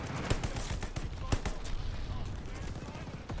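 Rapid automatic fire from a BAR rifle in the shooter Call of Duty: Vanguard, a dense continuous stream of loud cracking shots with sharper peaks near the start, set against busy game noise.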